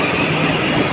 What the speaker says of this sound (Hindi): मैं छतरपुर मेट्रो स्टेशन पे आ चुका हूँ